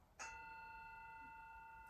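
Gong struck once during a yin yoga session, a sharp metallic onset followed by a long, steady ringing tone that fades very slowly in a quiet room.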